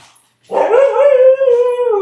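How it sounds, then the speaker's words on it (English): A dog gives a loud, close drawn-out howl that slides into a yipping bark as its owner arrives home, one sustained vocal cry lasting over a second and a half. "The dogs are gonna go nuts for a minute."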